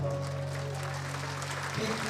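At a devotional bhajan gathering, an audience gives warm applause for the singer Arun, a steady wash of many clapping hands over a low hum that fades slightly toward the end.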